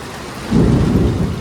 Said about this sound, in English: that was a strong storm that just rolled up